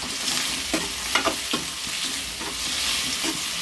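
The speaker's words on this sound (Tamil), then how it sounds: "வெங்காயம் வதங்கினதுக்கப்புறம் தக்காளி போட்டுக்கலாம் வதக்க உப்பு போட்டுக்கலாம் நல்லா வதக்கு" Onion and tomato sauté with salt for a Sunday fish curry, meen kuzhambu, giving a continuous loud sizzle with quick ladle scrapes and stirring knocks close by and no voices.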